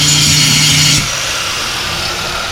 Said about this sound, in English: plug in this grinder